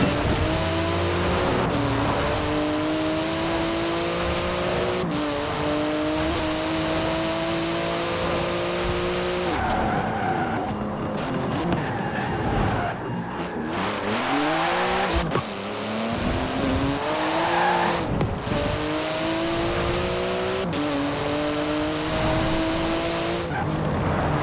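A Porsche 911 GT2 weaves through city traffic in Forza Horizon 4, its engine revving hard through repeated upshifts, with tire squeals and skids as it brakes and accelerates, loud and close with no talk.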